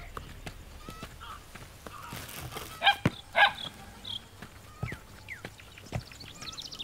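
A dog gives two short, fairly distant barks in quick succession, quiet against a low background hum with a few scattered knocks.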